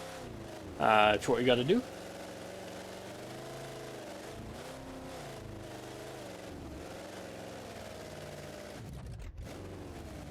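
A 1050hp monster truck with a huge torque converter in BeamNG.drive bogs down at low RPM, producing a steady, quiet, droning engine hum beneath someone talking.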